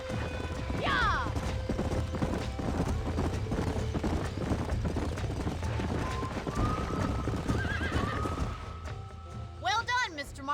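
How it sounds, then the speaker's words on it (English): Horses in the Red Dead Redemption video game, with steady galloping hoofbeats throughout and whinnies near the start, middle and end, mixed with game ambience and voices. "These are fine horses."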